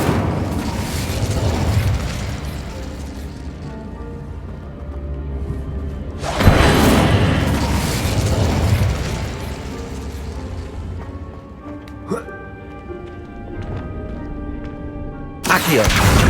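Fire spell effects in the Hogwarts Legacy video game: a series of loud whooshing bursts and booming flares, separated by quieter stretches of lingering magical shimmer and hum.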